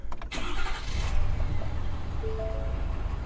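A 2017 Ford F350 Super Duty with the 6.7 engine starting: a brief cranking burst, then the engine catches and settles into a steady, loud, low idle rumble.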